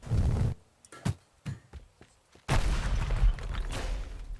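A bomb blows up a trash can in the destruction game Teardown, a loud burst of crackling blast noise at the start, several sharp debris pops, then a second big rumbling explosion that sustains to the end.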